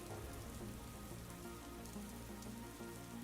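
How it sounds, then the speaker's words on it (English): Steady rain falling and pattering on a surface, a continuous dense hiss of drops at even loudness with no talking over it. "You hear rain?"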